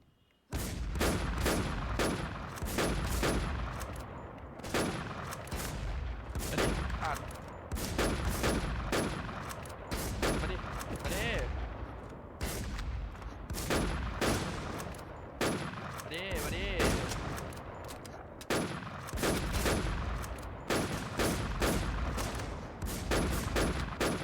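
Dense, rapid gunfire from the WarZ video game, with repeated bursts and volleys running continuously at close range and high loudness, broken only by brief gaps, while faint voices occasionally sit beneath the shooting.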